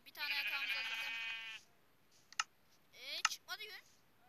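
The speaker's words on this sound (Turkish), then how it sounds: "Üç tane daha koyun bulsak" Sheep bleating in a video game: one long, loud, wavering bleat, then a pause broken by a couple of sharp clicks, followed by a shorter second bleat with more clicks.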